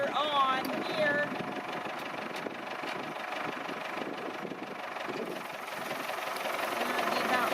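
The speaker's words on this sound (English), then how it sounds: "Old guy's in the tractor, about ready to start it" An old farm tractor pulling a water wheel transplanter runs steadily and rumbles in the mid range. The noise is continuous and fairly close, with faint background sounds and no clear start.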